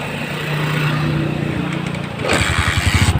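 A Honda TMX 155 motorcycle, converted to a battery-operated CDI, cranks for about two seconds, then catches and settles into a close, loud, pulsing idle, with no talking.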